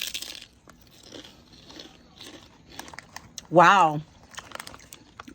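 Crispy, dense barbecue chips crunch under bites and chewing, a few close crackly bursts, with one loud spoken exclamation midway.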